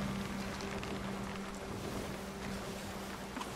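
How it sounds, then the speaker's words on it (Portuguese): Wind at sea in the Sea of Thieves video game: a constant, loud rushing roar with a steady low hum underneath, unbroken throughout and without voices. "Já tá melhorando o vento."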